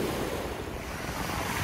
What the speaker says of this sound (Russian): Смотрите, море взбаламутилось, заволновалось.